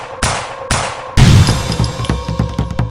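A 9mm pistol fires four rounds in quick succession, each a sharp, loud crack with ringing decay, the last shots overlapping amid a clattering, echoing burst.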